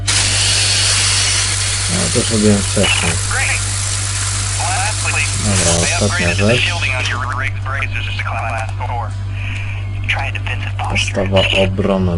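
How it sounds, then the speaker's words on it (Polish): A mech drill in the video game Lost Planet 3 grinds loudly at first, then fades after several seconds into intermittent mechanical clanks and whirs, with someone talking throughout. "Pora na wiertło."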